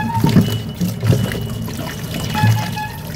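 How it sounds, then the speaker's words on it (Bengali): Water pouring and splashing as taro and eggplant are washed in a home kitchen, a close, continuous trickle with a few louder sloshing bursts. "কচু বেগুন ধুয়ে নেবো"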